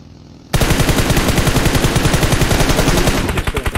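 Sustained automatic gunfire in the video game PUBG Mobile, a loud, rapid burst of evenly spaced shots starting abruptly and running for about three seconds before tapering into a few separate shots.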